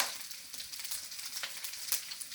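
Shrimp dropped into a hot pan of frying Jamaican jerk pork fried rice, giving a steady close sizzle with a few brief crackling spikes and no talking.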